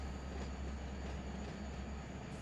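A freight train in the Run 8 simulator rolls along in a steady low mechanical rumble, with a faint high whine carried over it throughout.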